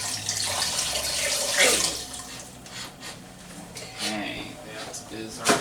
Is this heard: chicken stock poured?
yes